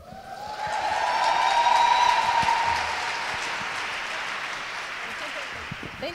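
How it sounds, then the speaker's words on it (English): Conference audience applauding at a public conversation event, a dense wash of clapping that swells over the first two seconds, then thins and fades gradually. "Let's another round of applause."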